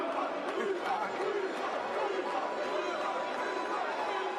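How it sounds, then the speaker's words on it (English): A boxing arena crowd before the Ennis vs Lima fight keeps up a steady roar of chatter and cheering, dense and continuous throughout at a moderate distance. "This crowd is electric."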